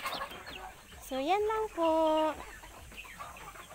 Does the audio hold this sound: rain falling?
no